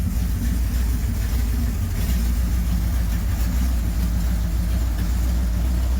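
A 440 big block engine fitted with a homemade velocity stack runs continuously, a loud, steady, low rumbling idle close by with no break.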